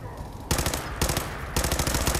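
Automatic gunfire in Fallout 4 comes as three sustained rattling bursts, each about half a second long and separated by short gaps, loud and close, with no talking.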